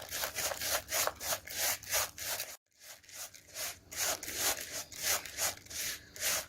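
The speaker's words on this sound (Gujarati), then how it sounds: "અને બરાબર મિક્સ કરી લઈશું।" Gulkand mukhwas ingredients with rose essence are stirred together in quick, rhythmic scraping strokes, steady and close, pausing briefly once with no talking.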